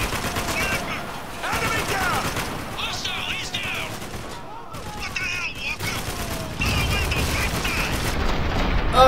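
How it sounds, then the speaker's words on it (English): Rapid bursts of gunfire aimed at a window in the video game Spec Ops: The Line, with repeated shots and booms in uneven volleys and game voices mixed in. "I am shooting the damn window."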